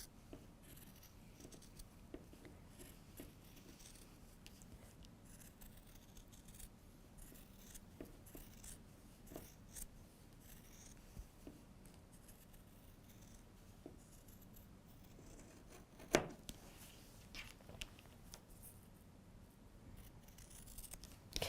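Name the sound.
Clover Bordeaux scissors cutting through bulky quilted fabric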